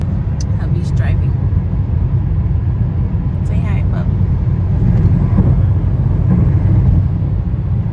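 A car on the move, heard from inside the cabin as a steady low road-and-engine rumble that continues throughout, with a person speaking over it.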